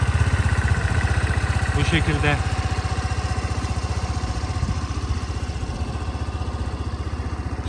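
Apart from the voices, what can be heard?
Kanuni Resa 125 scooter engine running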